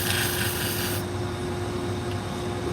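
An abrasive cleaner block rubbed against a shear blade to lift built-up material makes a continuous scratchy rasping, fairly quiet and close, its texture shifting slightly after the first second.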